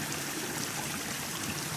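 A stream flows just downstream from a waterfall, giving a steady, full broadband rush of moving water at moderate level with no pauses or voices.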